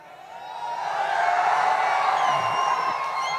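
A big indoor audience at a company anniversary celebration shouts, whoops and cheers, building in a loud sustained roar that swells and holds throughout, with no speech over it.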